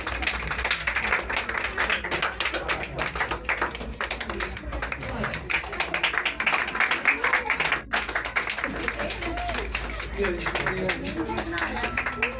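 Congregation clapping for Pastor Ashir at a church gathering on a mission trip to Rangpur, a steady dense wash of applause carrying on throughout with voices mixed in.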